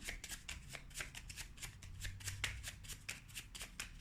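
A homemade deck of tarot-style cards is shuffled by hand in quick, repeated riffling bursts, close and soft with a faint low background hum.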